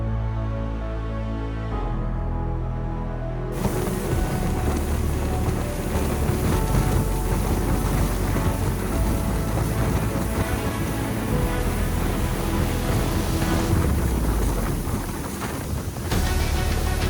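A private boat cruising on the open sea off Zakynthos, with steady engine rumble, rushing water and wind buffeting the microphone throughout, loud and continuous.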